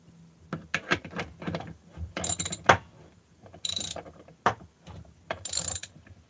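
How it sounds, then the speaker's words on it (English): Ratchet wrench clicking in quick bursts during crankcase assembly on a 181 288XP chainsaw, loud and close, with several separate runs of rapid clicks broken by pauses and small metallic handling knocks. "Ratchet."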